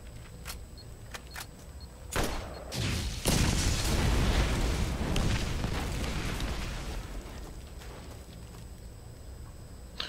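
A charge detonates in the Borderlands video game, a sudden loud boom that swells into a sustained roaring rumble lasting several seconds before slowly tapering off, with some sharp earlier thuds.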